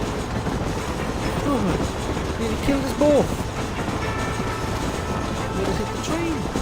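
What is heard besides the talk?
train passing in video game Red Dead Redemption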